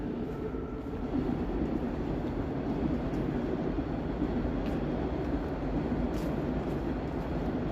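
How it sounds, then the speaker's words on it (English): A train rumbles past in Toronto on a Friday evening, a continuous loud, broad roar with low rolling noise and faint squeaks, steady throughout and close by. "Another train behind me."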